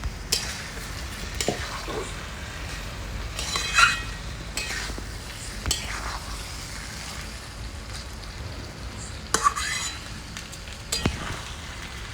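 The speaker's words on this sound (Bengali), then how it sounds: "এবারে ভাজা চিকেনটা কিন্তু এর মধ্যে ঢেলে দেবো গ্রেভিটা কষা হয়ে গিয়েছে ভালো করে" Fried chicken pieces tipped into thick masala gravy and stirred, soft sizzling under scattered spoon scrapes and clinks against the pan, fairly quiet and close with no talking.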